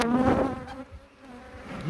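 Agitated honeybees buzz steadily around an open beehive, a dense close hum that swells and dips over two seconds with no talk.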